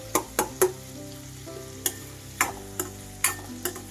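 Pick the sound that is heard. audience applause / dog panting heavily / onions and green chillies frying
onions and green chillies frying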